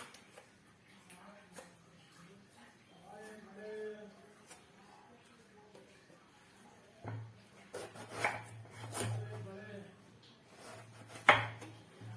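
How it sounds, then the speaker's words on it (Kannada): Knife chopping round brinjal (eggplant) into slices for bajji, a few sharp knocks on a board in the latter half, with a low steady hum underneath and quiet kitchen sounds before. "ನಿಮ್ಗೆ ಎಷ್ಟು ದಪ್ಪ ಬೇಕು ಆ ರೀತಿ ಕಟ್ ಮಾಡ್ಕೊಳ್ಳಿ"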